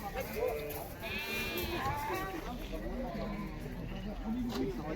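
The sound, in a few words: male lambs bleating at livestock market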